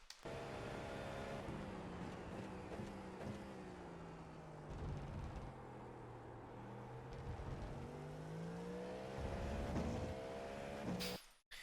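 GTP race car at full speed around Laguna Seca in the iRacing sim, a sustained high engine whine with rising and falling pitch through gear changes and corners, loud and continuous, cutting off abruptly at the end.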